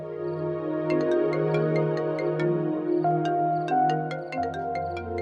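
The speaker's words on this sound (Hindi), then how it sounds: "ये सदफ का फोन आ रहा है, तुम कोई बहाना कर दो" Mobile phone ringtone for an incoming call, a melodic electronic tune of sustained notes with plucked accents, repeating phrases at steady volume with no voices over it.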